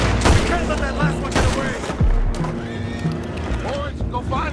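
Horses whinny and neigh loudly amid clopping hooves and bursts of gunfire in the Red Dead Redemption 2 video game, with several shrill calls overlapping a busy, noisy scene and voices talking.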